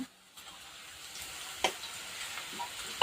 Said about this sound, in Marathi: आता आपण हिरवी मिरची छान अशी भाजी घेऊन मस्त तळून घेऊ